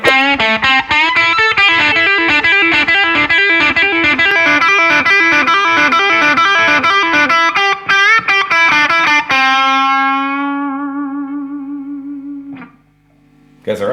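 Electric guitar played through a Fender Deluxe Reverb amp with boost and drive: a quick run of distorted, rhythmic strummed chords, then a single sustained note ringing out with reverb tail and fading, followed by a short noise.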